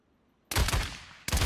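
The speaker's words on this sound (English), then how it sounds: "Your primary weapon is your assault rifle." An assault rifle fires in Paladins, two loud close bursts of rapid shots separated by a brief gap.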